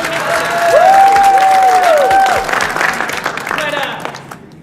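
An audience cheers and claps in a short loud burst, with a bright sustained whistle or shout riding over the crowd noise before it tapers off.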